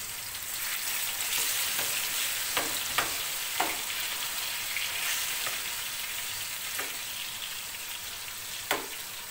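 Food fries in a pan while a family breakfast is cooked, giving a steady close sizzle with a handful of sharp pops and clicks scattered throughout and no talking.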